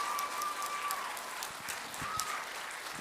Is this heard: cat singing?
no